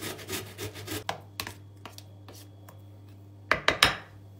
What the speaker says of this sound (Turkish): Domatesleri rendeliyorum.